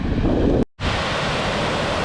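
River water rushes loudly at Linton Falls, a dense roaring wash heard close, briefly cut by a split-second dropout before the torrent resumes.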